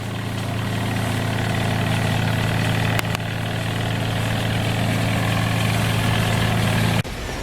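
A Costway portable washing machine runs at full speed, powered off-grid by an R300 power station, giving a loud, steady motor hum with a constant low drone throughout and a brief click near the end.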